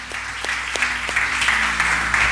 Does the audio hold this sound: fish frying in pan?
no